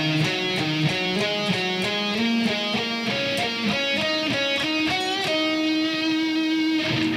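A bright minor pentatonic guitar lick of quick picked notes with a small bend, played at a steady pace and ringing clearly on its own.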